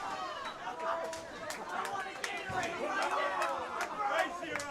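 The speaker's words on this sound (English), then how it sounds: "That's why you hear the crowd chanting" Bowling alley crowd at a scholarship trios tournament chattering and reacting in a noisy babble, excited voices rising and falling with sharp pin-like clatters scattered throughout.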